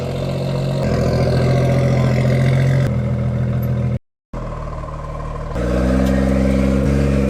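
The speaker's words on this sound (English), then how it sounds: "we're going to have to potentially reverse the car up the ramps" A BMW M140i engine runs close by as the car reverses up ramps, a steady mid-pitched hum that rises a little partway through, briefly cuts out, then returns at a slightly higher level.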